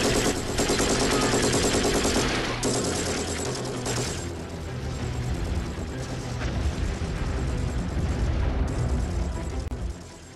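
Heavy gunfire from big guns in a Batman motion comic battle scene, a dense, loud, continuous barrage of rapid shots and blasts that runs unbroken for about ten seconds, with no talking.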